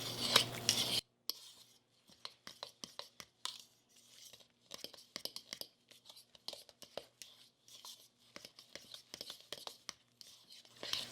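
Keto biscuit dough with chunks of butter is mixed by hand in a bowl, making scattered soft scrapes, taps and dry rustles at an irregular pace, close and quiet, with a brief louder burst at the start.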